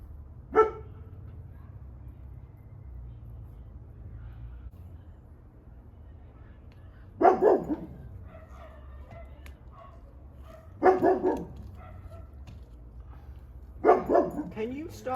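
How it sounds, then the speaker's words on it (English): A dog barks four times outdoors near garden conduit and wiring work: a single sharp bark, a long pause, then three more short bursts spaced a few seconds apart over a low, steady hum. "Do you ever stop barking? Do you even know how to not bark?"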